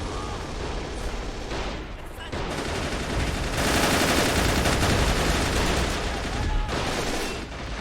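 Continuous dense gunfire in the World War II game Men of War: Assault Squad, with an MG-42 machine gun among it during a German defense near Stalingrad, a loud, unbroken rattling barrage with heavy battle noise throughout.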